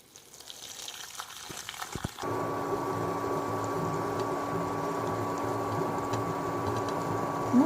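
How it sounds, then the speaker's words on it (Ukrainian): Very hot water is poured over jars of pickled butter mushrooms being canned for winter, a steady hissing, bubbling pour that starts suddenly after a few soft clinks and continues evenly, close and moderately loud. "Заливаємо дуже гарячою водою."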